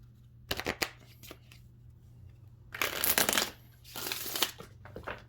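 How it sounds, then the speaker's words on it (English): Tarot cards are shuffled and pulled from a deck, heard as close, crisp riffling bursts separated by quiet pauses, with a longer shuffle in the middle and smaller flicks at the end. "let's go ahead and pull this next card"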